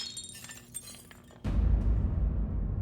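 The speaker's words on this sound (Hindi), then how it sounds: "वो कांच का गिलास पड़ा था पानी का, वो हमारे हाथ से ऐसे गिर गया, वो टूट गया हो।" A glass water tumbler drops and shatters at about the midpoint, a loud sudden crash followed by a dense, sustained smear of breaking and scattering glass noise filling the rest of the clip; no talking.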